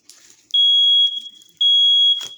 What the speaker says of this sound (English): This sage have made this smoke detector go off.